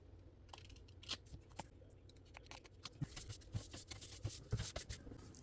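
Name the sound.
scissors trimming excess paper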